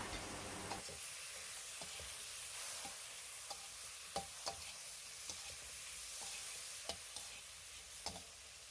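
Shiitake mushrooms stir-fried in a wok with soy sauce and sugar for a vegetarian dish, a steady sizzle broken by regular spatula scrapes and clicks, close and moderately loud, with no talking.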